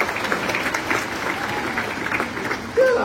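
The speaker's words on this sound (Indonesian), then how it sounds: "Tepuk tangan dulu yang paling meriah buat Tuhan." A church congregation breaks into lively, sustained applause, a dense wash of clapping that stays steady throughout, with a brief voice rising near the end.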